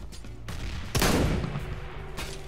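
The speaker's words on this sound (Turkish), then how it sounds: "Hemen şuraya bombayı fırlatacağım." A grenade thrown in Counter-Strike: Global Offensive, a sharp burst of noise about a second in with a rumbling tail, heard under faint gunfire and game sounds.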